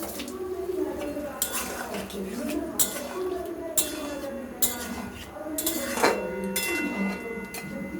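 Bowl clinking against a pan as the bowl's rinse water is poured in while cooking okra with poppy seed paste; light metallic clinks and ticks recur every second or so over a steady background hiss.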